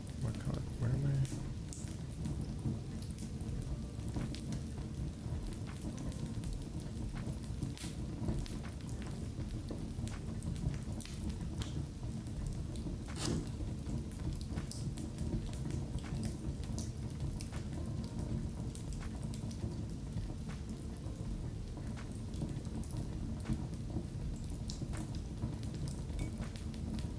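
Steady rain falling outside on a rainy day, a continuous soft hiss and patter heard from indoors throughout, with occasional faint sharper ticks and a voice talking now and then.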